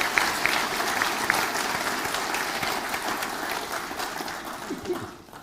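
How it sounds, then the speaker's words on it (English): Audience applause at a formal event with a royal speech by Crown Prince Haakon of Norway, a steady dense clapping from a large seated crowd lasting throughout, tapering off at the end. "please, another round of applause"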